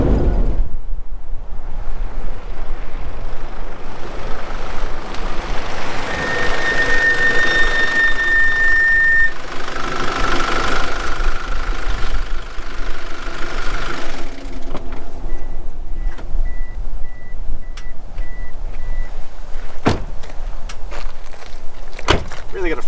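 A car's brakes squeal as it pulls up at a roadside stop on a road trip from Perth toward the Nullarbor. There is a thin, steady whine of a few seconds, then a fainter broken squeak later, over constant road and wind noise.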